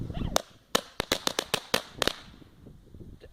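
A string of small firecrackers going off at close range, about a dozen sharp loud pops in a quick irregular burst that ends with a fading rumble.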